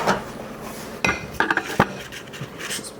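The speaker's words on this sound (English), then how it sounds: "Now we're going to scoop it into the muffin cups." Gluten-free muffin batter scooped into muffin cups, with a few sharp clinks and taps of a utensil against a bowl and tin, spaced irregularly and close by.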